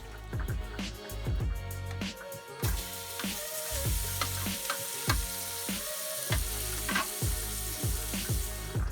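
Andouille sausage frying in a pan, a steady close sizzle with repeated clattering stirs and scrapes at irregular intervals, no one speaking.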